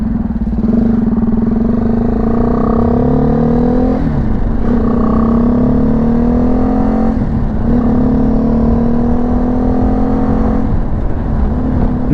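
A BMW G310 GS motorcycle at speed, its engine droning loud and steady with rising pitch through gears and short dips at each shift, heard close from the rider's position with wind rush and no talk.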